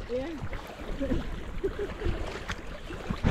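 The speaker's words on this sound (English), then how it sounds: "How are you enjoying the rapids?" Rushing glacial river rapids churn and splash steadily in the rain under a kayak, with faint voices calling out over the noise, in Patagonia.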